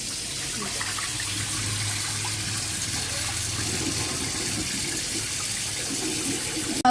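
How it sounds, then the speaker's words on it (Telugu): Steady running water pours continuously from a tap while pieces of village-style country chicken (natukodi) are rinsed clean for curry, a constant close hiss with no talk. "లాస్ట్లో మంచి వాటర్తో వాష్ చేసుకోవాలి"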